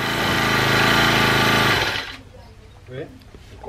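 A string trimmer's loud buzzing motor whines steadily for about two seconds while cutting yard grass, then cuts off, leaving quiet background with faint voices.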